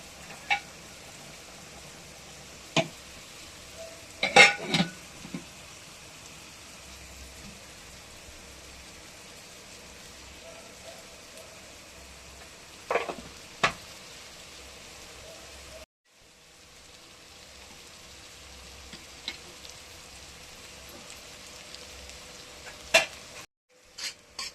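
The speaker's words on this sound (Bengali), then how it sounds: "পেঁয়াজটা লাল করে ভাজা হোক," A low, quiet sizzle of onions browning in a pan for mutton, with a few scattered spoon clicks and scrapes, a brief drop to near silence midway, then the soft frying resumes.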